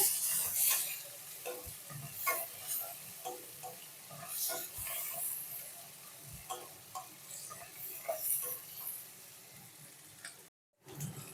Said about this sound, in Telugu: ఇప్పుడు కొంచెం పసుపు వేసుకుందాం కొంచెం కరివేపాకు వేసుకొని మిక్స్ చేసుకోవాలి